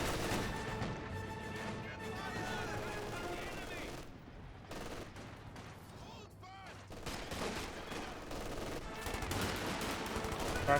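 Rapid machine-gun fire from an armored car striking a 120mm mortar position in Company of Heroes 2, with bursts and booming impacts amid dense battle noise, loud and continuous under a commentator's voice.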